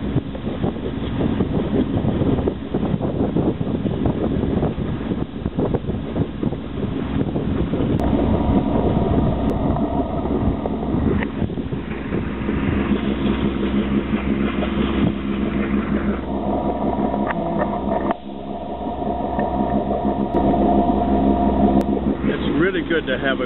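A sailboat's engine motoring north on the Sea of Cortez, approaching Punta Arena, drones steadily and loudly throughout, a low humming rumble with tonal layers, mixed with gusty wind buffeting the microphone.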